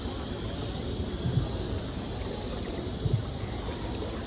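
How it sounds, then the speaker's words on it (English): A steady wash of moving water with a couple of soft, low paddle strokes from a boat driver paddling a boat in Puerto Princesa, no voices. "we're getting paddled by one of these boat drivers"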